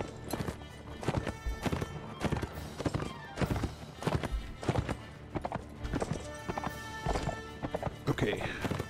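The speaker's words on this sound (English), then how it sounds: "Horse over here." Horse hooves clip-clopping at a run with whinnies in the medieval combat game Mount & Blade, a steady close rhythm of hoofbeats under game noise and someone talking.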